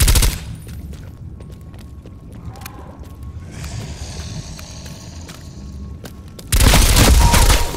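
Gunfire from an SMG in Call of Duty Black Ops Cold War Zombies on PS5 comes as scattered shots and mechanical clatter over game ambience, then a loud, sustained burst erupts near the end.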